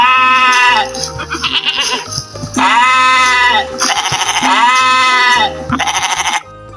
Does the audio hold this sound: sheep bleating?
yes